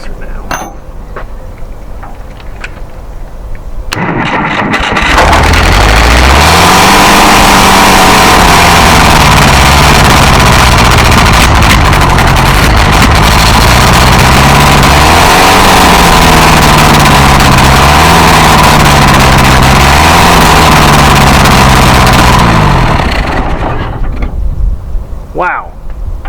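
An M151 MUTT military jeep engine cranks, catches and settles into a loud, rough idle with wavering revs, close by, before shutting off near the end; brief talk is heard before and after.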